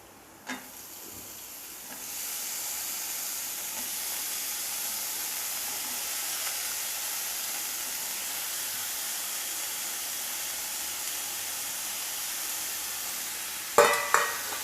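Chopped snake gourd sizzles steadily in a pan, a continuous frying hiss after a brief clatter, with a couple of sharp knocks near the end.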